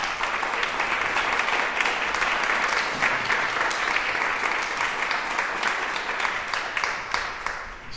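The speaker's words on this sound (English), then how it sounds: "So definitely give them a round of applause because they're really very special." A concert audience applauding graduate student composers at UC Davis, sustained dense clapping from many hands at an even level for several seconds, fading a little near the end.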